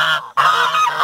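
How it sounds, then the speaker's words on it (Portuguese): A brown Sebastopol-type signal goose honks loudly and close by in a barnyard among ornamental hens, giving a harsh nasal call that breaks off briefly and then resumes steadily. "Aqui é o ganso sinaleiro pardo"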